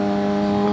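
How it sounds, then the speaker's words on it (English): Exhaust of a custom Suzuki GSX-R 750 motorcycle at cruising speed, a steady loud droning engine note with a strong constant pitch, close and continuous through the moment. "the exhaust is a little more high pitched at a cruising speed"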